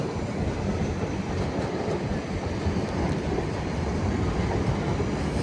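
A Class 450 electric train, unit 450071, passes through Clapham Junction with a steady, close rumble of wheels on rail and faint clickety-clack, loud and unbroken throughout without any voices.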